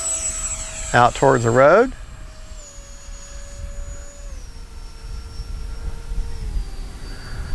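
An Arrows RC Sabre F-86 64mm electric ducted-fan jet passes down the runway with a high steady whine that slowly drops in pitch as it moves away, and a person briefly speaks over it.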